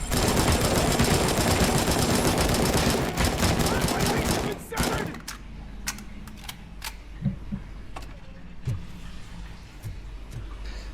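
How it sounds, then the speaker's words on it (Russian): A gun turret in the video game Robocop Rogue City fires a dense, loud burst for about five seconds, then a few sharp isolated shots ring out while someone speaks. "А! Турель."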